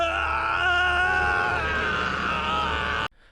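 An anime character from Fruit of Evolution Season 2 lets out a loud, strained scream while powering up into a Super Saiyan transformation, held steadily for about three seconds before cutting off abruptly.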